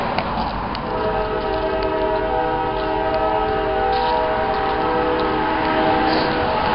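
A train horn blows long and loud, holding steady tones with short breaks, over the rumble of a passing train.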